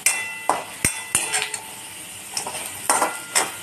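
Roasted potatoes are scooped from a pan onto a plate with a string of sharp metallic scrapes and clinks against the pan. The clinks fall irregularly over a faint background hiss.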